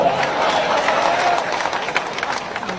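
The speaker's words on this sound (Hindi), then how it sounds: "ठोको ठोको ताली ठोको" An audience at a comedy stage show claps and applauds loudly, a dense continuous patter of hands that stays steady across the stretch, with a voice faintly under it.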